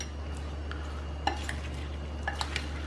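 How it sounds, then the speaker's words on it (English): A spoon stirs watermelon salsa with salt and lemon juice in a bowl. Soft wet mixing runs over a steady low hum, with a few faint light clinks against the bowl. "So I'm giving it a good mix."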